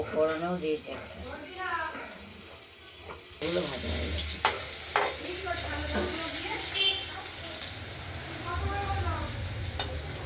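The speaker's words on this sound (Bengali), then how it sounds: "আলুগুলো আমরা একটু লাল করেই ভেজে নিয়েছি ভাজা করে নিলাম" Potatoes and green chillies fry in oil for a cabbage and potato curry, sizzling steadily with stirring clatter close by, while a person talks over much of it.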